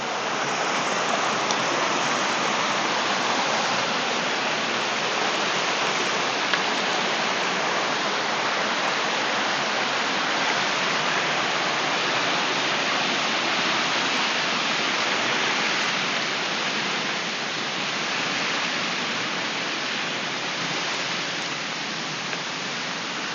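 Tat Yai waterfall in Phetchabun, Thailand, heard from the rock shelf below: a steady, dense roar of falling and rushing water fills the whole stretch with no pauses and no voices.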